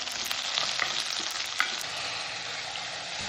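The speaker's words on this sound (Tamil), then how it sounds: "எப்போதும் போல் வெங்காயம் பச்சை மிளகாய் கருவேப்பிலை எல்லாம் போட்டு ரசத்தை தாளித்து விட்டுக்கோங்க" Onion, green chili and curry leaves being tempered in hot oil for rasam sizzle and crackle steadily, with small pops and light stirring, up close and with no voices.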